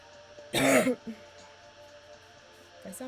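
One harsh, throaty cough bursts out close by, lasting under half a second, followed by quieter room tone and a few faint short vocal sounds.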